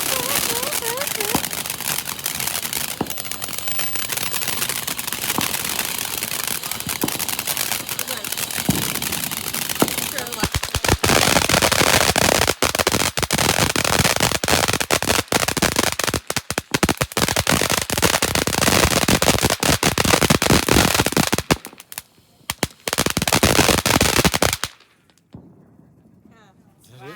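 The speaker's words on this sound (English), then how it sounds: "Are all these fireworks from last year?" Fireworks and firecrackers in Arizona crackle in dense, rapid bursts that run almost continuously, with sharper loud pops layered in, cutting out briefly near the end before a final volley and then dropping to quiet.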